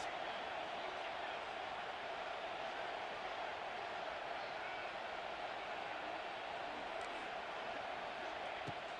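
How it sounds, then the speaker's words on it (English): A large stadium crowd at a football game roars in a sustained, dense wall of cheering, steady and distant-sounding throughout, with no clear breaks. "Listen to this crowd just shaking the girders of this place, trying to help their defense."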